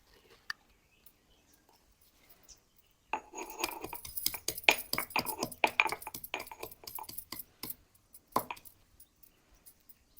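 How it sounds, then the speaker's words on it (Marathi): Garlic cloves are crushed by hand at home for a Maharashtrian drumstick flower bhaji, a close run of sharp, rapid pounding knocks on a hard surface with short pauses between bursts, in a quiet room. "तर लसूणच्या पाकळ्या ते आपण पहिला ठेचून घेऊया"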